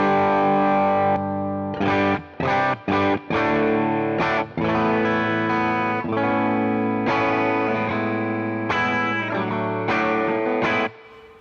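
Electric guitar with high-output P90 pickups played through a drive pedal in AmpliTube 5, distorted chords and sustained notes with a few short stops between strums, loud and close, no voices.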